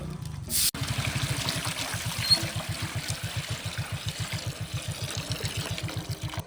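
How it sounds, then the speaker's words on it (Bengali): Water trickles and burbles in a fast, even pulse as it is poured into a pan for boiling eggs. A short clatter comes first, then the steady pour continues close by with no talk. "এবার ডিমগুলা সিদ্ধ করার জন্য জলটা দিয়ে দেবো"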